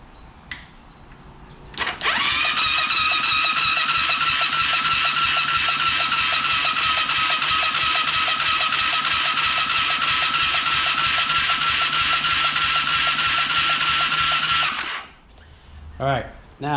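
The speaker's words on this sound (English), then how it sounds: "Let's see if we have power to the starter." A Yamaha YFZ450 quad engine, stripped of spark plug, carburetor and exhaust, spins on its electric starter in a steady, even whir of about thirteen seconds, cranking without firing; close and loud, with brief clicks before and after.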